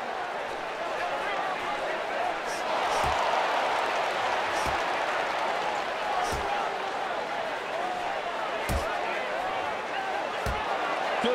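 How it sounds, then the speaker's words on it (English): Steady crowd noise from a UFC 2009 Undisputed mixed martial arts video game bout, a continuous roar with scattered sharp thuds of strikes landing. "Ah, the crowd reacting."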